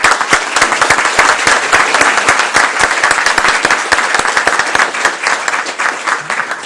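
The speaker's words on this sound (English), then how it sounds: "let's give a round of applause to our instrumental team" Sustained, dense applause from the audience at a county school board meeting for the school instrumental team, a brass quartet, steady and loud throughout with no pause.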